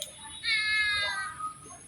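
A single drawn-out cat meow with clear rising and falling harmonics, close by, over a faint background hum.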